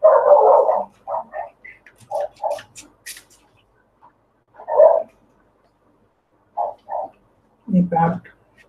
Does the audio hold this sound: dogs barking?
yes